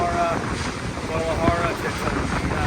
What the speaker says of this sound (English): Another hot, windy day here.